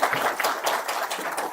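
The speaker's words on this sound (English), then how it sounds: "A round of applause for so once again." An audience applauding at a university faculty development programme event, a steady patter of many hands clapping, fairly close and moderately loud.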